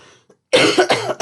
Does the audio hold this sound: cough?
yes